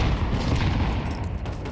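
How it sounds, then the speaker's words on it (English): Grenades bursting in the Counter-Strike 2 Banana area during a pro match, a dense run of deep, rumbling booms layered close together with no clear gaps between them. "A lot of nades downrange in Banana here."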